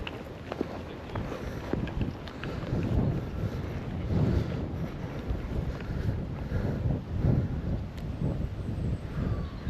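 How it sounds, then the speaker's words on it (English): Strong wind gusting across an open sea shore during sea trout fishing, with heavy low rumbling buffeting against the microphone that swells and eases throughout and faint surf underneath. "that wind that I was saying wasn't here earlier on is now here."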